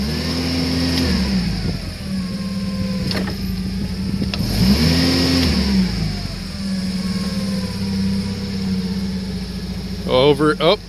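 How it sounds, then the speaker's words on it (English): A forklift engine revs up and down in repeated surges while the hydraulics are worked, with a steady mechanical hum underneath and a few clanking knocks near the end. "If you hit the gas while using the shifters, you're going to pump the hydraulic pump faster"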